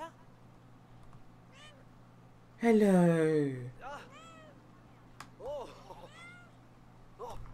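A cat in the video game Brothers: A Tale of Two Sons gives one loud, drawn-out meow, followed by softer, higher chirps and mews, over a low steady hum, with someone speaking briefly.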